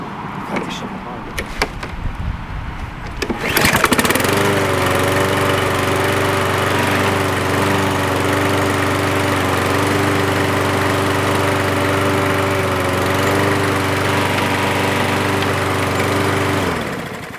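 Toro Personal Pace Smart Stow self-propelled lawn mower after a drive belt replacement: clatter and handling noises, then the engine catches with a burst and runs at a loud, steady, close drone until it cuts out.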